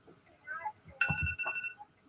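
A phone rings during an online English cultural-exchange class, a short bright electronic ringtone tone cutting in midway and holding for under a second, mixed with a brief murmur of people talking nearby.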